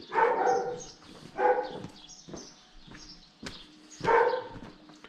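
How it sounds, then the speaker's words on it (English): Several dogs in Ora village, Cyprus bark in separate loud bursts a short distance away, with quieter yelps and faint background noise between them. "Some more dogs that are not too pleased."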